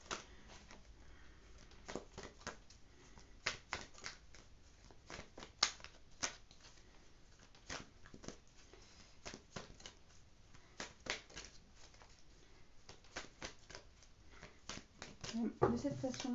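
Tarot cards being shuffled by hand, quiet repeated riffling taps and soft slaps in irregular bursts, close and faint, with a louder flurry near the end.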